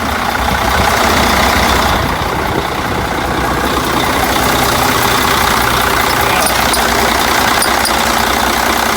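A big Mercedes diesel RV engine runs loud and close just after starting, a steady rough idle with a low rumble and broad mechanical clatter that holds without a break.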